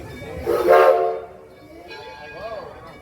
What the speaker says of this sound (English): please stay seated while the train's in motion